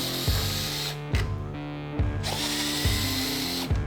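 Power drill loosening the axle bolts on the motor cable side of a Onewheel GT, a steady close whine broken by short pauses and clicks as the trigger is released and pressed again.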